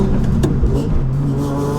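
A supercharged Nissan Fairlady Z33 with an aftermarket exhaust manifold revs loud and close, its engine and exhaust giving a continuous, throaty roar with brief surges and no voices.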